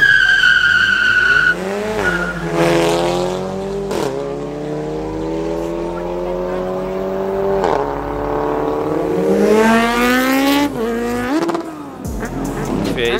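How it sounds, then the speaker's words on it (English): A Polo GTI and a Fiesta ST launch hard at a drag strip at night, engines climbing loudly through the gears with a tyre squeal, while commentary carries over the top. "Polo GTI versus Fiesta ST."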